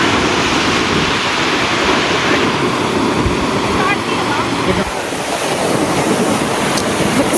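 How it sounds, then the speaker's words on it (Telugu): Ocean waves break against the rocks at Rock Beach in Pondicherry, a loud, continuous rushing surf with wind buffeting the microphone. "అలలు వచ్చి ఇక్కడ పడుతున్నాయి."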